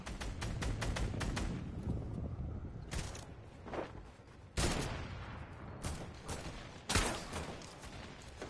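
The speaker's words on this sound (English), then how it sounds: "Somebody shooting." Gunfire in the video game Fortnite, with bursts of rapid shots and several sharp single cracks spread across the stretch, fairly loud, alongside footsteps and no talking.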